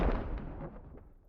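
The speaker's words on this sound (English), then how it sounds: "metal barrels come crashing down the slope next, exploding into flames of red and yellow" Metal barrels crash down a slope and explode with a loud, booming burst that rolls and fades over about a second, with no voices present.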